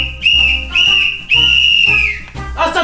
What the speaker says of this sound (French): Et c'est quoi ce sifflet?